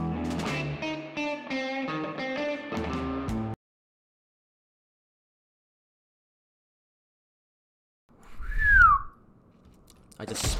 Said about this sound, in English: I tried to whistle and I spit on my microphone